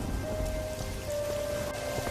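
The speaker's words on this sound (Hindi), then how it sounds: "उस तेज बारिश में घर के लिए चल पड़ता है" Heavy rain pours down steadily, a dense, continuous wash of falling water with a faint tonal hum running underneath.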